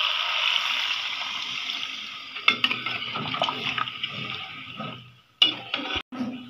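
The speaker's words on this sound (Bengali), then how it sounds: "এই তো আলু আর মাংস দিয়ে দিছি, ঝোলের পানিও দিয়ে দিছি" Water is poured into a pot of chicken and potatoes, a steady rushing pour for a few seconds, then clattering and stirring in the pot with brief knocks, fairly close and alone.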